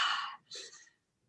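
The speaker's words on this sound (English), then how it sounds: "but you keep doing big breaths," Two breathy exhalations in quick succession, a long airy outbreath followed by a shorter one after a brief pause, close and fairly loud, then silence.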